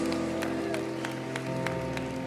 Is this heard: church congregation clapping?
yes